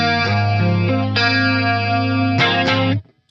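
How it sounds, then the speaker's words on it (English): Guitar played through a tri-chorus effect on a Line 6 Helix patch, sustained chords with a shimmering, wide modulated tone, loud and alone, changing chords a few times before cutting off. "This is a tri-chorus, I believe."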